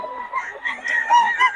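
Gamefowl roosters cluck and murmur close by in short, uneven bursts, with no talking.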